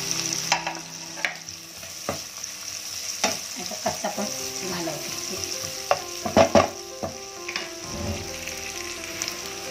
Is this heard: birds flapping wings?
no